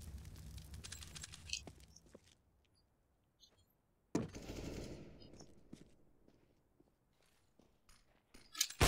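Gunfire in CS:GO crackles in loud rapid bursts, one early burst, a heavy close volley midway and another at the end, separated by quiet stretches with faint clicks and footsteps.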